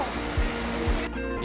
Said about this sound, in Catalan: sentim una fressa de l'aigua